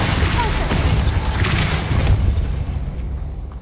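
A Confringo fire spell explodes in Hogwarts Legacy, a loud booming blast with a rumbling low-end tail that rolls on for a few seconds before fading out.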